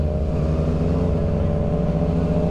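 A Yamaha FZ-09 motorcycle fitted with a 15-tooth sprocket pulls hard in a drag race, a close, loud, steady engine drone with strong low harmonics held throughout.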